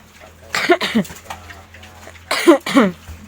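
Two pairs of harsh coughs, the first pair early and the second a couple of seconds later, close and fairly loud with a quiet low hum between them.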